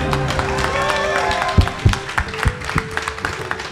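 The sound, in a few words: audience applauding the players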